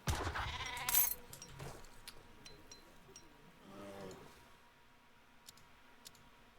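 Yaks bleating inside a livestock pen in Age of Empires III, a few short animal calls among soft game clicks and ambient hum, moderately faint.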